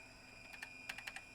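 Several quick keystrokes on a computer keyboard, a cluster of crisp clicks near the mic in a quiet room with no talking.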